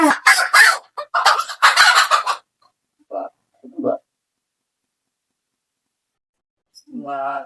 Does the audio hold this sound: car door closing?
no